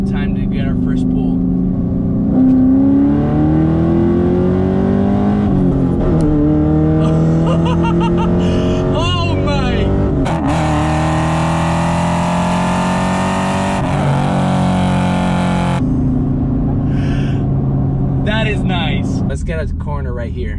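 A car accelerating hard during a full-throttle pull, its engine note climbing and dropping through gear changes, loud and close from inside the cabin, with an occupant talking excitedly over the engine.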